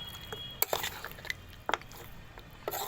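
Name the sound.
stirring ground spice mix into mutton in a pot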